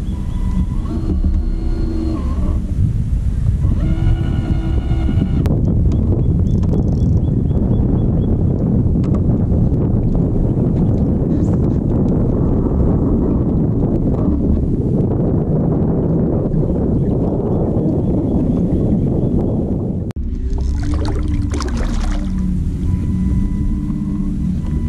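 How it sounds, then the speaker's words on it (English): Strong wind buffets the microphone during kayak fishing near Caladesi Island, a loud continuous low roar that swells and drops across the whole stretch. "I don't know if you're gonna be able to hear me with this wind."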